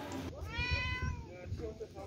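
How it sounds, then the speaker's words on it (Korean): A cat meows once in a long, drawn-out cry, close by, at the Geumodo Island ferry terminal in Yeosu, South Korea, with murmuring voices and low background rumble underneath. "금오도 선착장을 지키는 야옹이."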